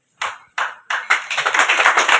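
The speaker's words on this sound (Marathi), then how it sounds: "टाळ्यांवर जीएसटी नाही आहे, तर जोरदार टाळ्या" An audience at a temple inauguration for Chhatrapati Shivaji Maharaj claps in a few separate bursts that quickly build into sustained, dense applause, close and fairly loud.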